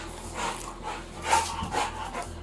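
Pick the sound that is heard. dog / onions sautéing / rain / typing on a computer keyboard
dog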